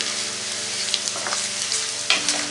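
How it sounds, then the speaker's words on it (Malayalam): Onions sautéing in a pan over a low-medium flame for a vegetable pulao, a steady close sizzle with a few brief stirring clinks and scrapes and no voices. "ലോ മീഡിയം ഫ്ലെയിമിലിട്ടാണ് കേട്ടോ അത് ഞാൻ വഴറ്റിയെടുക്കുന്നത്"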